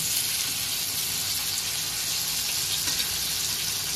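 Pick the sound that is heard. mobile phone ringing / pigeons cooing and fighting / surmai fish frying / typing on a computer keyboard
surmai fish frying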